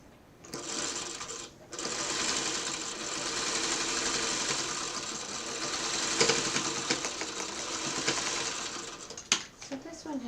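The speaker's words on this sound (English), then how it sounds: "Can I sew this last piece?" A sewing machine stitches a fabric piece in one long, loud, continuous run of nearly ten seconds, starting after a brief pause and stopping near the end with a few clicks.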